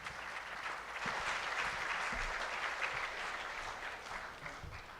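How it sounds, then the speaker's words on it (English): Sustained audience applause for conference panelists at an oceans, energy and shipping dialogue, a steady dense clapping that holds at an even level for the whole stretch with no voices over it. "please give a round of applause to all our panelists."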